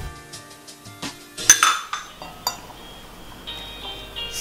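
Powdered sugar and condensed milk being mixed in a bowl for Christmas rum balls, a spoon clinking and scraping against the bowl in a run of sharp taps that thin into softer stirring.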